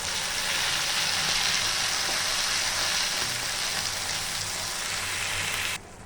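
Ground tomato paste added to fried onions in a pan sizzles loudly and steadily up close, a continuous hiss that cuts off abruptly near the end.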